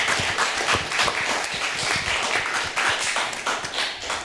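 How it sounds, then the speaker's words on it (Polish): An audience at a short-film screening block breaks into sustained applause, dense and loud clapping filling the whole clip with no talk over it. "Oklaski"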